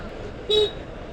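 One short car horn toot sounds in heavy traffic on a Shimla road, a clear honk about a fifth of a second long rising over a steady bed of road noise.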